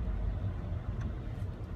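Low, steady engine rumble and road hum from inside a car crawling through commuter traffic, a muffled continuous drone with no voices.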